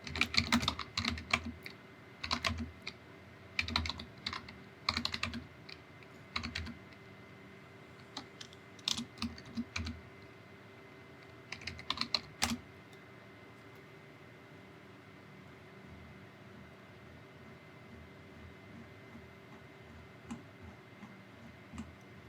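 Fingers type a command into a computer terminal, quick bursts of close keyboard clicks and taps in uneven clusters, thinning out to a few isolated keystrokes and then quiet room tone, with no talking.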